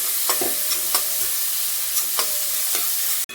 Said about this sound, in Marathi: 1 मिनिटभर आपण या मिरच्या छान परतून घ्यायच्या